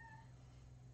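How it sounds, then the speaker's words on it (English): A cat faintly in the background during a live broadcast, a short meow-like tone rising briefly over a steady low hum, with no talking. "that is a cat in the background."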